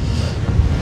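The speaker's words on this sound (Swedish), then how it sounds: "kallt i blåsten vid sjön här" Wind gusting beside a lake on a cold day, a steady low rumbling roar of air buffeting the microphone, swelling slightly in places with no voices.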